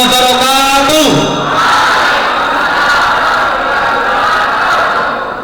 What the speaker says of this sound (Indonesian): Beri tepuk tangan sekali lagi untuk para paslon ini